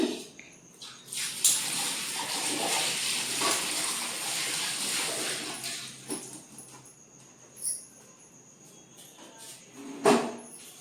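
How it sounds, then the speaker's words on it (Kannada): Tap water runs over green chillies as they are rinsed in a kitchen, making a close, splashy stream that is steady for several seconds and then breaks into a few sharp splashes and clatters near the end, with no talking. "ಇದನ್ನ ತೊಳಿತೀವಿ ಮೆಣಸಿನ್ಕಾಯಿ ಮೊದಲು"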